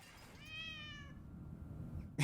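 A cat in the horror video game Summer of '58 gives a single drawn-out, wavering meow over a low rumbling background ambience.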